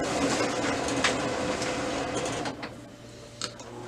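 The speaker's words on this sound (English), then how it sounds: "We're going to go ahead and print device statistics. Just give this a second to print here." A Lexmark MX517 laser printer runs a device statistics page, giving a steady mechanical whir and feed noise close by with a few brief clicks. The hum eases slightly near the end.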